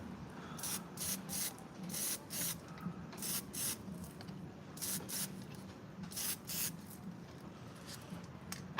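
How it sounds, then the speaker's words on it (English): Outdoor spray painting, with a string of short hissing bursts from a spray can, some quick and some held a little longer, coming in irregular groups over faint background noise. "spray painting."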